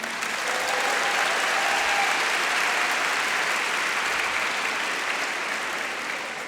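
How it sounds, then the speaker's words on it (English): A large audience applauds at the Sydney Opera House, a thick, even wash of clapping that holds steady throughout and tapers slightly at the end. "Rule one of chairing an event like this is don't milk the applause, and I've broken it already"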